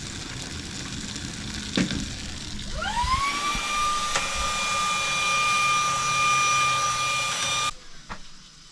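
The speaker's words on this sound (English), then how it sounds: "Now I'll have to get the vacuum out again." A vacuum cleaner, used to clean the floor of a camper on a free campsite by the Murray River, starts after a brief clunk, spins up to a steady loud whine for several seconds, then cuts off abruptly.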